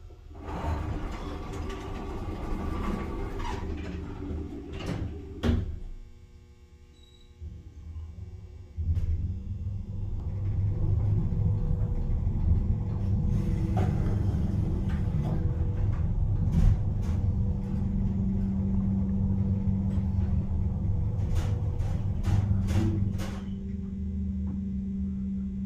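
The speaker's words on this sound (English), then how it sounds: "let's listen to that motor" An Otis Black Button hydraulic elevator motor at 7 High Street in Huntington, NY runs with a steady, loud low drone that settles in after a brief quieter dip and holds to the end.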